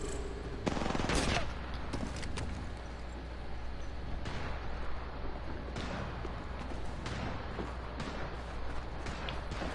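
Rapid bursts of gunfire from a battle royale shooter game play almost without pause over steady background game sound, with heavier volleys scattered throughout and a voice speaking briefly.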